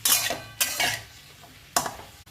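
Chopped ridge gourd with coriander is tossed and stirred in a kadhai: three short, close scraping bursts of a spatula against the metal pan, with quieter gaps between.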